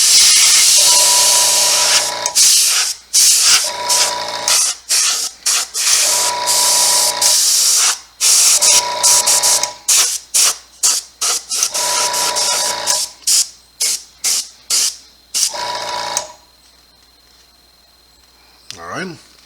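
An airbrush sprays paint onto a latex skinned-face mask in loud, bright hissing bursts, stopping and starting in short blasts before falling quiet near the end.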